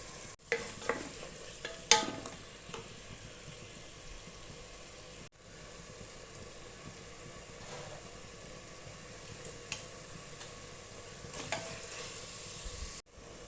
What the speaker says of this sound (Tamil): 2 பச்சை மிளகா, எடுத்து வச்சுருக்கிற கொத்தமல்லி புதினா, இதையும் சேர்த்து நல்லா வதக்கிக்கலாம்